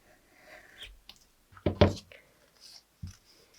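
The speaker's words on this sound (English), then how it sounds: "I'm going to cut off" A few quick scissor snips trim the extra strip of material wrapped around a cut-out image for a miniature dollhouse coiled rope basket, a close cluster of cuts with one later snip, under a soft voice.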